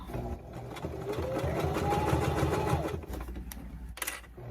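Stitching slowly over a bump in the fabric, a sewing machine hums and knocks unevenly at close range, swelling and then easing off, with a few sharp clicks near the end.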